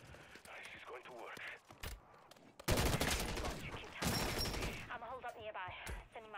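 Video game gunfire in bursts of rapid shots, loud and close, with a long sustained volley in the middle, mixed with a player's talk between the shots.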